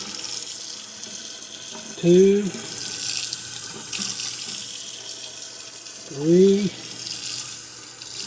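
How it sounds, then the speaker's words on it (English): A kitchen tap runs water steadily into a sink throughout, a continuous splashing hiss, while a person counts aloud twice. "I've got water running over here."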